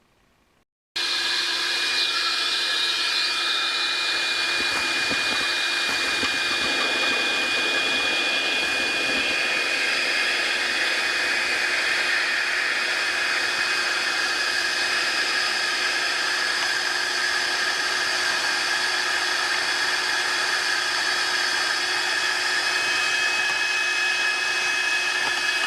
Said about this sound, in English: So I was thinking I could, vacuum up the screws with this